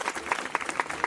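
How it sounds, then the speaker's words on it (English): Several people clap in a short burst of applause, sharp separate hand claps in a loose uneven rhythm, fairly close and loud, with no talking over them. "I'm gonna clap that up for you."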